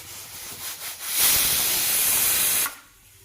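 Steam hisses steadily from a pressure cooker of mung dal on a simmering gas flame, a soft rush swelling to a loud, sustained hiss that cuts off abruptly, with no talking.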